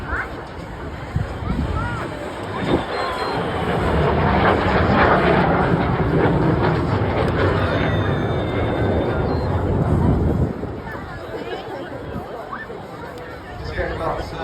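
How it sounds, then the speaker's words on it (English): Ex-Polish Air Force aircraft in a Blackpool airshow flypast, a loud sustained engine roar that builds and then drops away, heard over crowd chatter. "This aircraft served the Polish Air Force before he was taken to Britain in the 1990s."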